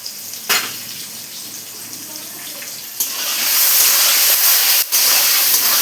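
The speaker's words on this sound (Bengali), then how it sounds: "ভালো করে আলুগুলো ভেজে নেব লাল লাল করে।" Potatoes seasoned with salt and turmeric fry in hot oil with a loud, steady hissing sizzle that swells midway, broken by a couple of sharp clicks from the pan or spoon.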